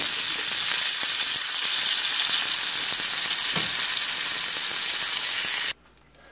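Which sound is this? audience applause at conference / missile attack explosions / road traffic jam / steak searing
steak searing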